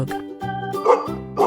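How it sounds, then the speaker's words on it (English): A dog gives two or three short, close barks over bouncy children's music. "dog,"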